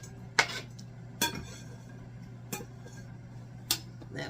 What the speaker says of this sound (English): So we're going to put those onions in a bowl.